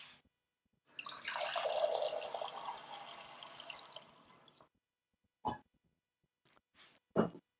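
Water poured from a measure into a pot of couscous, 450 millilitres for 500 grams of grain, as a steady close pour lasting about four seconds, followed by a few brief clinks and knocks.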